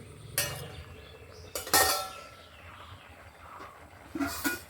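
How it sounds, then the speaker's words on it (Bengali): A pot lid lifted off boiled raw green mangoes, a few sharp metallic clinks and clanks with quiet handling sounds and a faint splash between them. "এবারে ঢাকা তুলে ঢেলে নেব"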